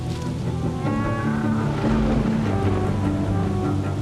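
River water flowing in a rainy night forest, a dense, steady rushing wash mixed with a low tonal hum, loud and continuous, with no talking.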